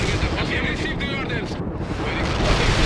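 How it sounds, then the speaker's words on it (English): An area artillery strike in the video game World in Conflict, a loud, dense barrage of rumbling explosions and blasts that continues unbroken for a few seconds. "Area artillery strike fire."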